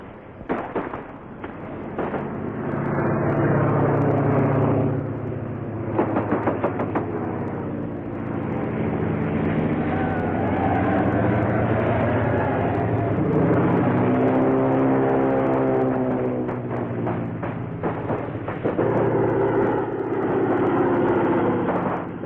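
A constabulary airplane in a 1938 film roars overhead, a loud, sustained propeller engine drone that swells and shifts in pitch as it passes, with sharp crackles and pops mixed in.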